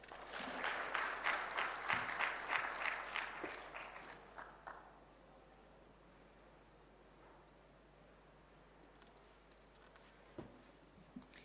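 Audience applause at the closing of a microfinance technology summit in a Kigali convention hall, a few seconds of moderate clapping that fades out, followed by quiet room tone with a couple of faint knocks.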